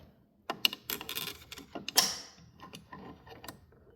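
A magnet being pulled out of a PAMAX magnetic buffer system gives a short run of close mechanical clicks, metallic taps and a sliding scrape, with a sharper bright snap near the middle.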